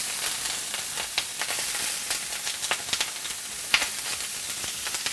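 Two cups of rinsed, dried and pressed sauerkraut fry in a pan coated with canola oil, giving a steady close sizzle scattered with small crackles and pops, with no voices.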